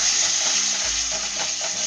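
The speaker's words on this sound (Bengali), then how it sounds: "ভালো করে জল দিয়ে কষাতে হবে" Katla fish masala sizzles and bubbles in a pan after water is added, a steady loud frying hiss with soft stirring scrapes underneath.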